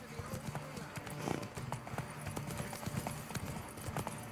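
A horse in the video game The Witcher 3 gallops with rapid, rhythmic hoof clip-clops, fairly faint and steady over a low ambient bed.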